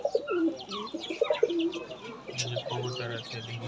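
Pigeons coo repeatedly in a backyard bird house that also holds chickens, soft throaty calls rising and falling in a steady rhythm close by, with a few faint chirps mixed in.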